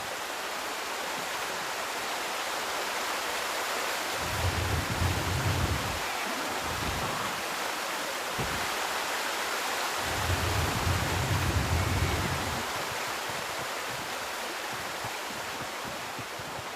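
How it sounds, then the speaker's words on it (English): A river stream flows in the ARK: Survival Ascended video game, a steady, even rush of water heard alone at moderate level, with a couple of deeper swells in the low end. "this is the river or stream"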